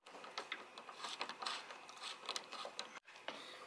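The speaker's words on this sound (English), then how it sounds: "Wrap our extension and start tightening it down." A tailgate lock is tightened down with a key and extension: quick bursts of close mechanical ratcheting clicks, a short pause near the end, then a few more clicks.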